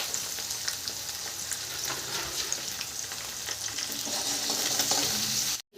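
Chopped onion with curry leaves, turmeric and salt fries steadily in hot oil in a pan, a dense continuous sizzle with faint stirring scrapes, close and alone without voices.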